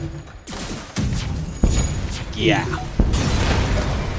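Missiles fire and explode in the spaceship game FTL, with dull booms and blasts over a rumbling background and a brief whooshing streak, while a voice briefly speaks.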